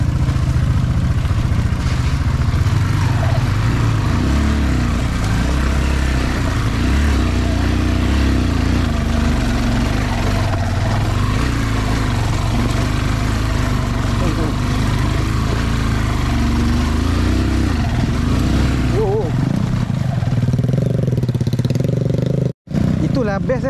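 Motocross dirt bike with a large front rim, engine running loud and close for the whole stretch while the bike picks its way over rocks, stopping and moving off again, with talk over the engine.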